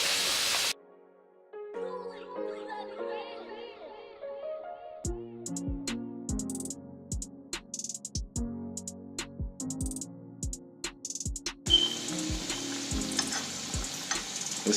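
Whiting fish frying in a pot of hot oil, with a loud hiss of sizzling and bubbling under a music track with a steady beat, the frying swelling brighter toward the end.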